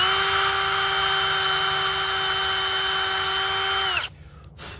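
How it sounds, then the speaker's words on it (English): A power drill whines at a steady high pitch while pre-drilling a storm door cover during an Anderson storm door installation, loud and close for about four seconds before stopping abruptly, followed by faint clicks. "You put that in it and you have to pre-drill it."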